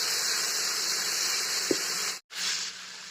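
Carrot pieces frying over low to medium flame in mustard oil for an Assamese bamboo-shoot khar, a steady close hiss broken by one brief silent gap before resuming.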